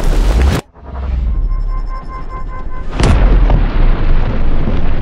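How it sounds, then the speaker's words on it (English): A loud Tannerite explosion detonates with a sharp, heavy boom, followed a few seconds later by another powerful blast, with rumbling residue filling the gaps. "The entire explosion covers it and it still hasn't moved."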